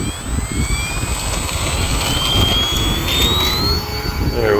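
A small aircraft, likely a radio-controlled plane, roars steadily through its takeoff run and climb, a loud engine whine with a rising pitch sweep near the end and no voices over it.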